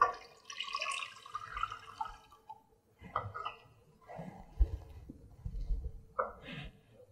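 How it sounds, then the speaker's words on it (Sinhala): Water poured into an eclair mixture with Astra margarine during baking, soft intermittent splashing and dripping in short bursts, close and fairly quiet. "මම එකතු කරගන්නවා වතුර"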